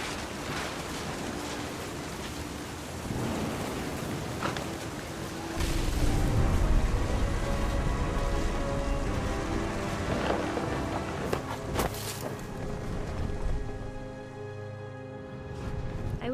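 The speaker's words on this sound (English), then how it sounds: "The thunder sounded much too close and full of angry power." Thunder and rain in What Remains of Edith Finch: a continuous wash of rain and wind with a swelling low rumble of thunder midway, plus a few sharp cracks near the end, fairly quiet overall.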